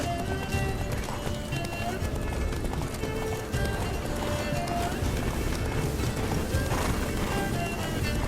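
Roach the horse gallops in The Witcher 3: Wild Hunt, a steady rapid clip-clop of hooves with an occasional whinny, heard throughout under game music and ambient noise.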